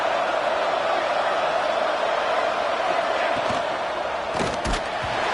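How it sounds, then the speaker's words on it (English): Loud, sustained roar of a college football stadium crowd urging its defense on during a red zone stand, a steady dense wall of noise with a few sharp thumps near the end. "This crowd is trying to inspire this defense to make a big red zone stop."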